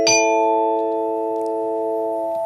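A single sustained bell chime rings out clearly on a live radio show, a bright struck tone that lingers steadily for a couple of seconds with no talking over it.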